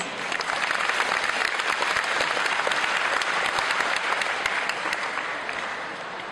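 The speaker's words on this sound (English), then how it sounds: "And a big round of applause for the beginners, please." A crowd at an aikido Japan Day demonstration in New Zealand applauds the beginners, dense steady clapping throughout, close and sustained, tapering slightly at the end.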